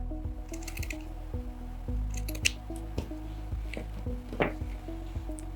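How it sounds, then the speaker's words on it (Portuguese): Pinking scissors snip a wavy edge into felt for a handmade witch doll, giving a run of crisp, close cutting crunches in an uneven rhythm under a low steady hum, with no talking. "você pode deixar reto ou fazer esse detalhe com a tesoura de picotar"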